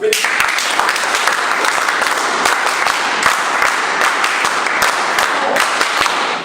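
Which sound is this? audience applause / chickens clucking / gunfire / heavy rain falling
audience applause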